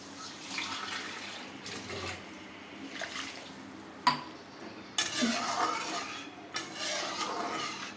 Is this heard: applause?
no